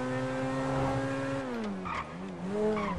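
A Ferrari in GTA V screeches its tires with a sustained, loud engine whine that dips and rises in pitch over a few seconds, close and continuous, with no talking.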